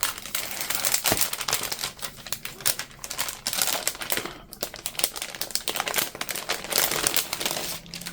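Packing paper crinkles and rustles continuously as it is pulled out of an unboxed craft box, close and fairly loud, with dense crackling that does not let up.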